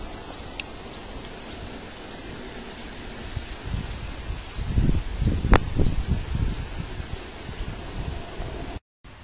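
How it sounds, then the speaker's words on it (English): Strong wind during a dust storm in Sydney, a steady rushing roar with heavier gusts buffeting the microphone midway, followed by a brief dropout. "Just have a look how strong this wind is."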